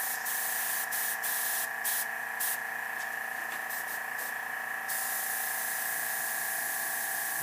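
Airbrush spraying paint onto a figure's hair, a steady faint hiss of air running throughout, with short rhythmic bursts of sharper spray in the first half.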